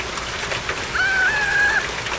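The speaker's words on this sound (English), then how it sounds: "It's raining." Steady hiss of rain falling on surfaces, with a brief high tone sliding in midway over the constant patter.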